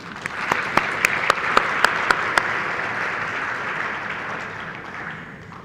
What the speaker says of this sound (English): Can I hear some applause, please?